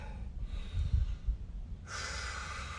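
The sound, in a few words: deep breathing during core workout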